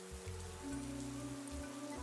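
Steady rain falling outdoors, a continuous moderate hiss of drops with a low tonal hum running underneath, no voices.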